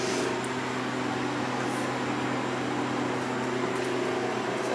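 A freeze dryer runs with a constant mechanical hum, steady low drone and airy whir, unchanging throughout, close by.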